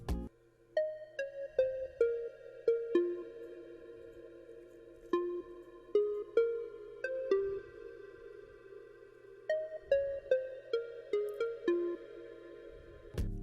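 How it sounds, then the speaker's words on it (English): Square-wave synth plug from the Spiral plugin's hot and sexy preset plays a bright, buzzy chord riff in short rhythmic stabs over a low sustained bass tone, for an amapiano beat remake, loud and alone without talk. "more like a square plug sound,"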